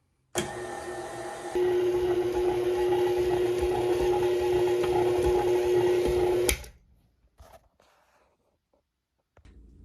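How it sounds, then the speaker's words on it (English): A kitchen mixer starts up on cookie dough dry ingredients, a steady loud whirring motor hum that runs for several seconds, then cuts off abruptly, followed by faint scattered clicks and near silence. "So all of the dry ingredients are now in, and I'm going to start mixing"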